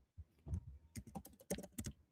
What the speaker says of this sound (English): I'm typing in his name and everything.